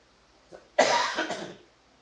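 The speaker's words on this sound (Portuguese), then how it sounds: "há um pigarrinho, né? Um pigarrinho na garganta." A brief faint catch in the throat, then a louder, rough throat clearing that lasts about three-quarters of a second, close and alone.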